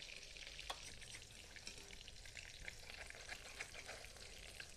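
Banana stem fritters sizzling in hot oil as a whole batch fries at once, a steady crackling hiss with small pops scattered throughout, moderately faint and with no voices.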